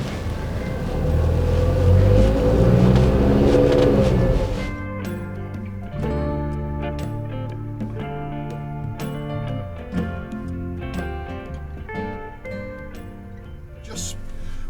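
A Nissan Serena hybrid people carrier drives along, first with a loud rumble of road and wind noise, then settling into quieter cabin hum with faint tonal music-like whines and occasional knocks as it moves.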